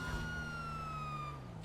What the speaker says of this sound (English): If you press the button to the right here, it activates the lights in the siren.